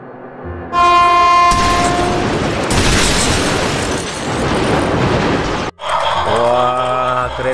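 A toy train locomotive switching on: a short electronic chime, then a loud, harsh blaring horn that holds for several seconds, cuts off abruptly, and gives way to a tinny melody, all very close.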